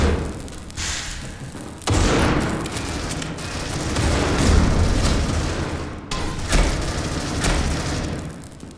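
In the mobile shooter Critical Ops, an incendiary grenade bursts into heavy booming thuds and rolling crackle, loud and close, with sharp cuts and renewed blasts through the stretch amid ongoing gunfire.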